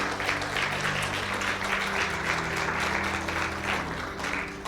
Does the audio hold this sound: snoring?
no